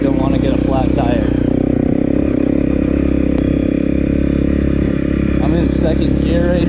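A 2018 Honda CRF250L with a 13-tooth front sprocket rides off-road in second gear over loose gravel and sharp rocks, its engine droning loud and close throughout, with rattling clatter and a voice talking over it.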